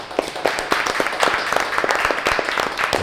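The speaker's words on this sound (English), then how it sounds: "Please give a round of applause" An audience applauds to welcome the chef of Pla's Food and Drink, a Columbus restaurant, with dense, steady clapping from a crowd at moderate loudness for a few seconds.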